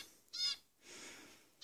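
A cockatiel in an aviary gives two or three shrill, raspy calls, each with a brief, breathy drawn-out screech, set against quiet background noise.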